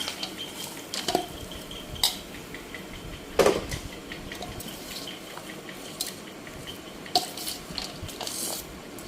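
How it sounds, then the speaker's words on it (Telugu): A spoon scrapes and clinks against a metal pot in irregular strokes while mixing tempering into rice for tamarind rice, with sharp knocks now and then over a quiet background. "ఇప్పుడు ఈ పోపుని ఇందులో వేసుకొని కలుపుకుంది"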